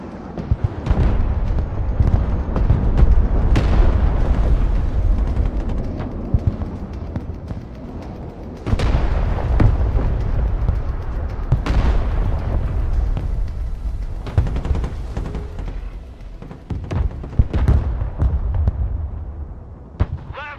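Heavy weapons and artillery pound a position in the real-time war game Broken Arrow: a dense, continuous roar of close booms and blasts, with sharp bursts standing out every few seconds.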